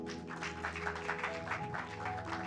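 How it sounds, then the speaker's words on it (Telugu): A church congregation claps in a quick, steady rhythm along with sustained music, the claps moderately loud and continuous throughout. "చప్పట్లు కొట్టుకోండి"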